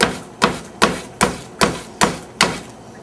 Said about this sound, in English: I'm going to be grinding this garlic into the board. And I'm just taking it and mashing it down.